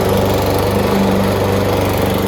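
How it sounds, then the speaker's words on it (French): A lawn mower runs continuously close by, a loud, steady buzzing engine drone that holds even from start to finish. "Là, j'ai fait le 3/4 de la tondeuse en avant. Boyfriend est en train de continuer."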